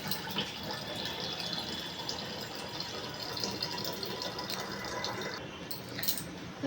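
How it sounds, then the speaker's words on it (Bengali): Water runs steadily into a container at home, a soft continuous pouring and filling rush with faint clinks, heard close and without talk. "জল ভরা হয়ে গেছে, এবার এটাকে ঢেকে রাখি"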